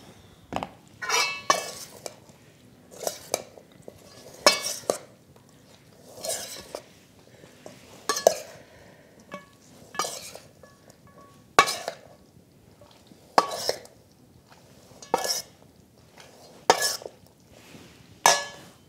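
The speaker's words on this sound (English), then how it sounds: "we are going to add enough dressing to get it all mixed up" Utensils clink and scrape against a bowl in regular bursts every second or two as salad is tossed with dressing, close and fairly loud with quiet gaps between strokes.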